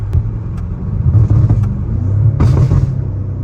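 An 850-horsepower BMW M5 driving on the road, a deep steady engine rumble with tyre and cabin noise, heard from inside the car, loud and close, with short bursts of brighter noise layered on top.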